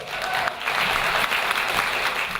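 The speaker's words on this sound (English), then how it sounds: "Make some noise for Patrick Ledwell." A comedy audience applauds as a comedian is introduced on stage, a dense, continuous wash of clapping from a large crowd that stays loud and even throughout.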